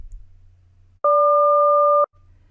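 A SELCAL tone pair, G and Q, sounding together as one steady electronic dual tone for about a second, clean and loud against a faint low hum before and after.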